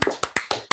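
A few quick, close hand claps ring out in a steady burst as a small group applauds after a movie ends.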